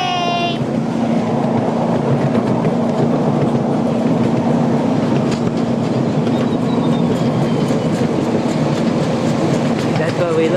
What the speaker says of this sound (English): We're on a train.